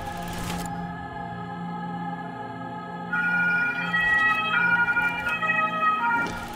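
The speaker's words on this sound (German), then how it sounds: "Falls man gerade einen Krankenwagen gehört hat, ne," An ambulance siren sounds outside, a steady wailing tone that grows louder partway through and continues to the end, heard over background game sound in a room.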